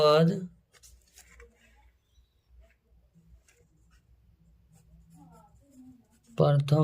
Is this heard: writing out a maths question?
yes